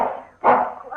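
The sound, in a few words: dog barking in a radio drama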